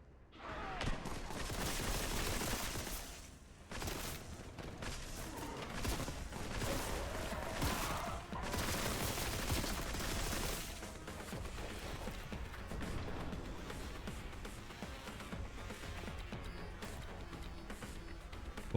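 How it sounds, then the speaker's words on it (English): Vengeance bolter rounds fire in a video game as dense, continuous bursts of rapid gunfire and impacts, heard fairly quietly and mixed with other game effects and occasional voice. "Vengeance bolter rounds."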